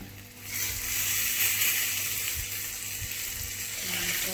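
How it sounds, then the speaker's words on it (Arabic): Flour-dipped stuffed vegetables, squash and peppers for Tunisian mahshi, dropped into hot oil and frying with a strong, steady sizzle that swells after the first half second, with faint knocks beneath it. "توا باش نحطهم يقليو"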